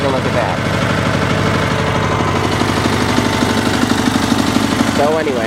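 A Sears SS/16 Twin garden tractor with an Onan engine idles steadily and loudly nearby, a rhythmic mechanical knock pulsing through the running engine, with someone speaking over it at the end.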